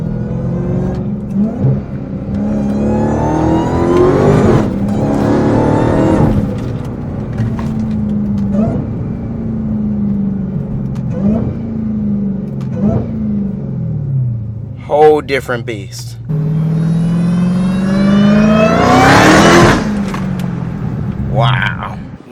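A Dodge Hellcat with a new exhaust and intake revs hard, its deep rumbling engine rising and falling in several loud pulls while people talk over it.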